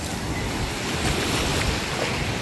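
Beach waves break and churn in a dense, constant roar of surf mixed with wind noise on the microphone, steady and close, with no one talking.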